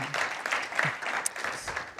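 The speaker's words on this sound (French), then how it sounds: "Je pense qu'on peut l'applaudir." A modest audience at a student entrepreneurship talk gives light, uneven clapping for skater Taïg Khris, individual claps audible rather than a full roar.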